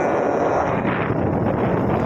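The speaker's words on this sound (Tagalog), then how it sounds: "medyo may mga kalakasan po ng hangin kunti at saka may mga alon-alon po" Strong wind buffets the microphone in a steady, loud roar, with no voices and no breaks.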